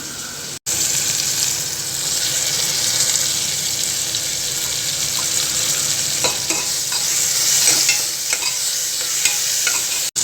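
Green chillies are stirred as they fry in a pan for pulao, a steady close sizzle with scraping stir sounds and some watery hissing, continuous with a few sharp taps near the end.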